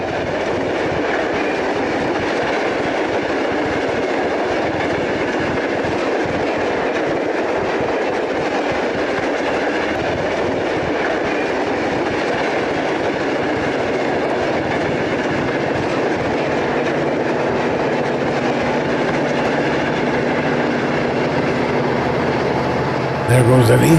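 An Erie Lackawanna era eastbound freight train rolls past close by in a loud, continuous rumble with steady rhythmic wheel clatter, and someone talks over it.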